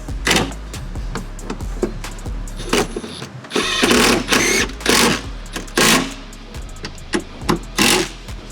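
Power driver running screws into a car's center console, a series of short whirring bursts with brief pauses between them, loud and close, some clicks and part handling between runs.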